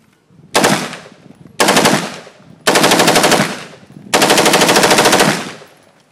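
Full-auto bursts from a Philippine-made UDMC PV firearm: four long, loud, sustained strings of rapid gunfire separated by short pauses, with no talking.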